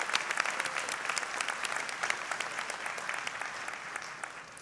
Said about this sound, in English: Applaud for yourselves.